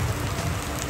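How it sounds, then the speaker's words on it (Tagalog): Heavy rain pouring down in a steady, dense hiss, continuous and enveloping with no voices over it. "tuluyan na ngang bumuhos ang ulan"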